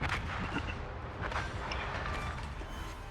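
Cruiser guns fire in a naval battle in the game Jutland, a dense, continuous rumble of booming artillery and crackling blasts layered over each other without pause.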